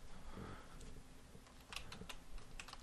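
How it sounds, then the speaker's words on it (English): Typing on a computer keyboard while entering a password into a server admin tool, with quiet key clicks scattered across the clip and a denser run of taps near the end, faint against a low background hum. "Type in the default password."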